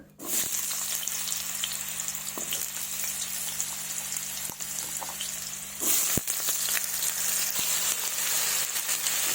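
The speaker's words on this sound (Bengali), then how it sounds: "প্রথমে আমি আলুগুলোকে ভেজে নেব।" Potatoes fry in mustard oil in a wok, giving a continuous loud hiss and crackle with occasional stirring clicks, and the sizzle swells briefly near the end.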